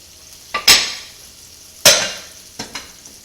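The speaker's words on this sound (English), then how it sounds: "we're going to give our scallop pan just a shot of butter here" Butter hitting a hot scallop pan sizzles in sharp bursts, two strong hisses followed by a smaller crackle, close and loud with quiet between them.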